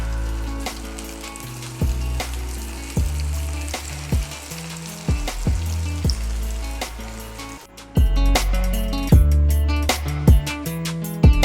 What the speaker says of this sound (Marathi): राहिलेले रोल पण आपण तळून घेऊया.